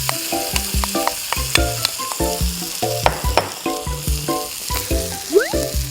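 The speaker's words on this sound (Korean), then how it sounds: "여기에 준비해 놓은 김치를 넣고 볶아주도록 할게요" Kimchi stir-frying in a pan of perilla oil, a steady sizzle running throughout with louder bursts as it is stirred, over a bouncy tonal background melody with a couple of rising slide notes.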